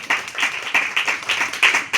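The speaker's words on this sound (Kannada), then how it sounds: "ಚಪ್ಪಾಳೆ ತಡಬೇಕು ಜೋರಾಗಪ್ಪ" Congregation at a church service clapping together in a quick, even rhythm, several sharp claps per second, moderately loud and fairly close, with no other sound on top.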